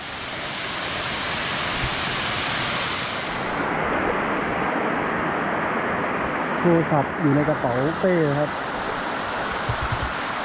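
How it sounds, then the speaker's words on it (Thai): The Tat Wimanthip waterfall roars loudly and continuously from close by, a dense wash of falling water that fills the whole clip while someone speaks briefly over it. "น้ำตกตาดวิมานทิพย์"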